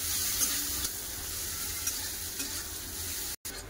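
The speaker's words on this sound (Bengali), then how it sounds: "পেঁয়াজটা ভালো করে একটু ভেজে নেবো" Sliced onions with black cumin seeds and a green chilli fry in hot oil in a kadai, giving a continuous close sizzle under occasional scraping stirs, with a brief drop-out near the end and no voices.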